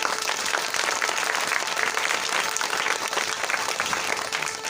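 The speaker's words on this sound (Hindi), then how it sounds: "ताली बजा के प्रभु को महिमा।" A congregation at a Christian preaching gathering claps steadily and loudly throughout, a continuous dense wash of many hands with no pause.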